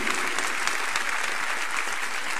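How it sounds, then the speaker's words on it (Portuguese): A church congregation gives a strong round of applause, a dense, steady wash of many hands clapping together, close and sustained throughout. "uma forte salva de palmas para Jesus"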